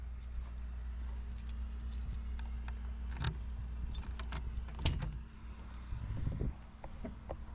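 A set of keys for a McCormick tractor jangles in a few quick metallic bursts, close by, over a steady low hum.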